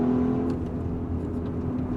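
A 2025 Porsche Cayenne Turbo E-Hybrid SUV accelerates hard out of a corner, its engine giving a close, steady, droning roar with a smooth whirring undertone.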